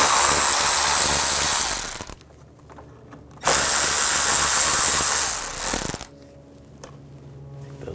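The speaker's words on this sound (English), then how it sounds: "Take these two screws out," A power tool with an 8mm socket backs screws out of the upper grille area of a 2009-2010 BMW 535i xDrive, two loud close-up whirring bursts of about two seconds each, separated by a short quiet pause.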